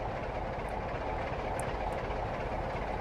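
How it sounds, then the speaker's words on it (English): A Class 47 Freightliner diesel hauling a heavy freight train rumbles steadily in the Trainz simulator, a loud, continuous engine drone and rail noise with faint high clicks. "It's a heavy train, so I'd rather approach it slowly"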